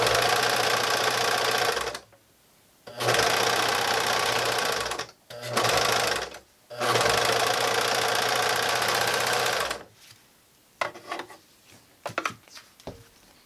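A sewing machine stitches the seam of a fabric face mask in three long, steady runs separated by short pauses, followed by scattered handling clicks and taps of the fabric.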